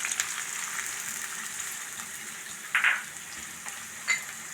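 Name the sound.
chopped onion frying in coconut oil in a pan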